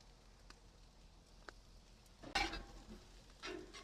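Seasoned fajita vegetables sizzle faintly on a griddle, with a couple of sharp scraping stirs as a spatula moves them around.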